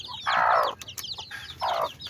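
A mother hen near newly hatched chicks gives two loud, drawn-out clucking calls separated by a short pause, with faint chirps between.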